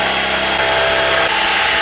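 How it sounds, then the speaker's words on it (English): A power drill boring holes to 3/8 inch for Jeep hood latch mounting on a Jeep JK, a loud, steady close-up whirring with a slight dip in pitch partway through. "he recommended drilling all of these to 3/8, including the two up top"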